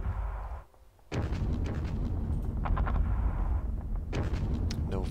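Mortar fire on tanks in the Panzer Battles Kursk wargame: a loud rumbling barrage that drops out briefly near the start, then bursts back with repeated thudding impacts and crackling blasts.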